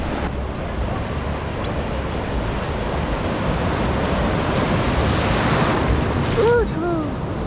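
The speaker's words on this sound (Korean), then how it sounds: "이게 파도가 엄청 셉니다." Heavy ocean surf in Bali rumbles and washes continuously, with a roaring, wind-buffeted texture and a few faint bird calls near the end.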